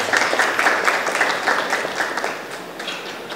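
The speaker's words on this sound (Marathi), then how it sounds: "तर आपण सगळ्यांनी टाळ्या वाजवून स्वागत करा." Audience applause welcoming guests at a Marathi public felicitation event, a dense steady wash of many hands clapping throughout, fairly loud and continuous without talk.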